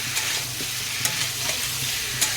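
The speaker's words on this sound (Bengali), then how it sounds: "ওলকপি আলুটা অনেকটাই ভাজা হয়ে এসছে" Kohlrabi and potato fry in a pan with a steady sizzle, broken by the periodic scrape and clack of a spatula stirring them.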